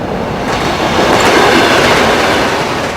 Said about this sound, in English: sound of the train. You could hear it from miles away